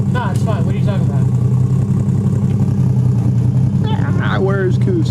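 A Toyota 1JZ engine idles steadily in a Nissan 240SX drift build with a low, continuous rumble close by, while people talk over it throughout.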